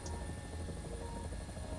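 A helicopter in the War Thunder combat game, its rotor and engine drone steady and continuous throughout at a moderate, even level with no talk over it.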